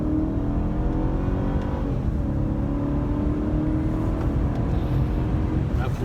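A BMW car engine accelerating, heard from inside as a steady, loud drone with rising harmonic tones throughout, no talk over it.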